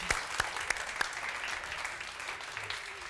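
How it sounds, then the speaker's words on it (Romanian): An audience at a Bucharest conference gathering in the Odeon applauds with steady, moderately distant clapping, a few sharper individual claps standing out early. "aplauze pentru căutătorii de valori și diamante"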